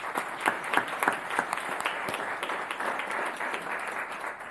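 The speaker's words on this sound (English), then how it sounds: "Let's give her a round of applause, please." An audience at a school board meeting applauds with steady, dense clapping that swells and slightly eases, moderately loud, with no talk over it.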